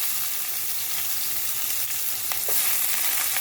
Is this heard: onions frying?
yes